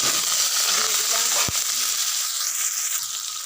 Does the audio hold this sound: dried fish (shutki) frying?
yes